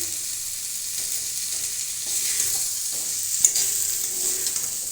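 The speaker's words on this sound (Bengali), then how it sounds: "মশলাটা দিয়ে আমি খুব ভালো করে কষে নিয়েছি এবং মশলাটা থেকে তেল ছেড়ে দিয়েছে" Spiced masala paste frying in oil while being stirred, with a steady soft sizzle throughout and scattered scraping strokes of a spatula against the pan, one sharper clack near the end, no voices.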